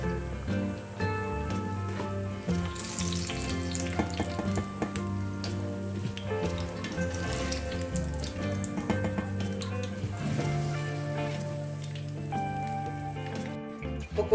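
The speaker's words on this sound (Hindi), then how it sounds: "पकोड़े मैंने कर लिए फ्राई" Oil sizzles and crackles continuously as pakoras fry, with steady background music playing throughout.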